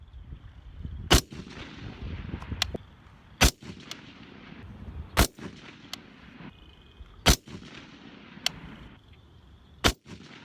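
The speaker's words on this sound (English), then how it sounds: "this is my first 5-shot group at 100 yards" Rifle with a red dot sight fired at a 100-yard range: six sharp, loud shots spaced roughly two seconds apart, each followed by a brief echo over quiet outdoor ambience.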